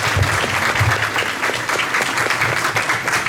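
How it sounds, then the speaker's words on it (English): A steady round of applause from the audience at an athletic banquet, dense clapping held at an even level for a few seconds, fairly close, with a faint murmur of voices beneath. "So if we could give them a round of applause."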